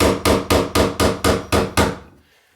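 A hammer tightening a shower drain, eight loud, evenly spaced heavy strikes close by, each with a short ringing decay, ending abruptly.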